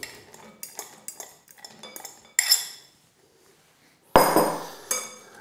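Almonds tipped into a pan of sugary cinnamon mixture, heard as a loud, close scattering clatter against the metal, set after a run of sharp utensil taps and scrapes.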